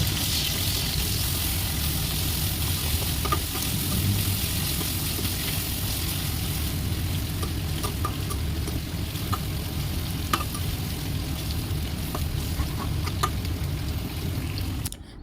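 Onions, ginger and garlic fry and get stirred in plenty of oil, a loud continuous sizzle with scattered clicks of the spoon against the pan throughout, no voices.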